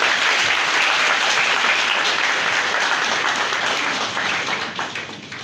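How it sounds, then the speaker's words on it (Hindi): Sustained audience applause fills a seminar hall on media freedom at a university campus, dense steady clapping holding loud throughout before tapering slightly near the end. "आप सबकी भरपूर तालियों में एजाज सिंह के साथ बुलाऊंगा सबको।"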